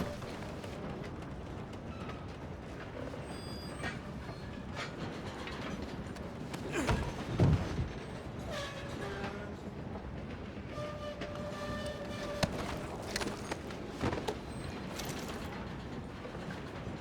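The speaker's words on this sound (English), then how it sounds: "we need to stop this train" A moving train rolls along in Red Dead Redemption 2, a steady rumbling clatter of wheels and rattling cars with occasional metallic clanks and squeals, sustained and fairly close.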